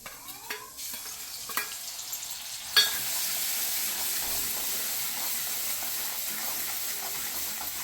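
Crushed chillies, garlic, cumin and salt hit hot oil in a pan, a sharp burst of sizzle after a few light clinks and taps, then settling into a steady, close frying hiss.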